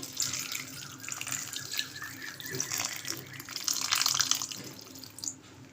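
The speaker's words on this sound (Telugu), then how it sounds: "ఇప్పుడు ఇంకొంచెం వాటర్ పోసుకుందాం" Water pours steadily into a pot of bottle gourd and drumstick tamarind stew, a close splashing rush that swells louder toward the end before tapering off.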